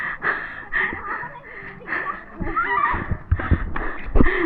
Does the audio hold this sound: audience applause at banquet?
no